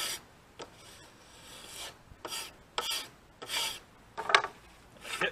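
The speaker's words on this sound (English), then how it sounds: "See how the scraper takes it right off?" A hand scraper strips charred wood from a bourbon barrel stave in about half a dozen short, rasping strokes, close and fairly quiet with uneven pauses between them.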